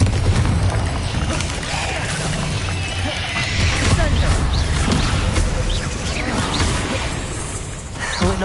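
Hogwarts Legacy combat with the Confringo blasting spell, steady loud rumbling blasts and crashing impacts layered into a busy, dense battle mix with no clear pauses.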